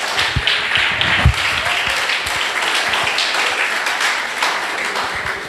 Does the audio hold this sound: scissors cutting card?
no